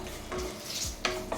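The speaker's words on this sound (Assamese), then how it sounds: "এয়া মই গোটেইখিনি মছলাই ভালদৰে ভাজি ল'লোঁ।" Whole spices, bay leaves, dried red chillies and cumin, frying in a pan on a home kitchen stove, a quiet close sizzle with a couple of short stirring scrapes.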